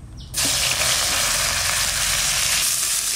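Chopped onion dropped into hot mustard oil with cumin seeds for a chicken curry, bursting into a loud, steady sizzle after a brief quiet start and holding a dense hiss throughout.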